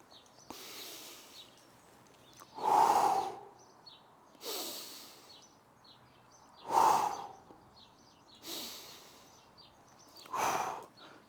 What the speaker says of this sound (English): Couple of deep breaths.